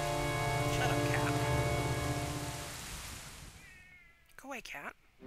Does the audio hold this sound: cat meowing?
yes